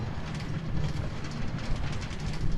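A Minecraft minecart rolls steadily along rails with a continuous low rumble and faint rhythmic clatter, moderately loud and heard alone.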